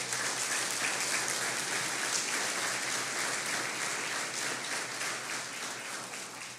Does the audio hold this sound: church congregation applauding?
yes